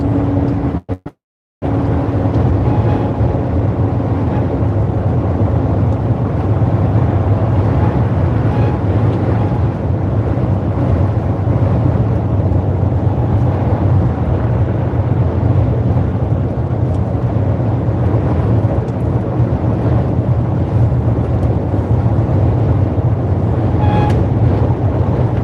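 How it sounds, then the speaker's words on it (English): Strong wind roars past a moving truck in a dense, continuous rumble with a low, heavy hum, steady and loud throughout after a brief dropout near the start. "I can't believe how windy it is."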